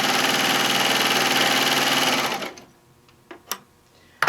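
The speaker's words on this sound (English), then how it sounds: "I'm going to sew off" A sewing machine runs steadily for about two seconds while stitching an apron panel, a loud continuous mechanical whir, then slows and stops, followed by a few faint clicks and handling taps.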